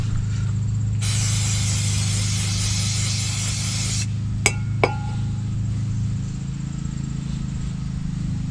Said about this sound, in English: let's spray this pin off.